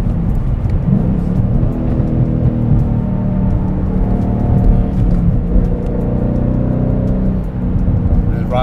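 A yellow 2013 Ford Mustang Boss 302 engine rumbles steadily while driving, a loud, close, continuous low drone with slight swells in revs and road noise, no talking.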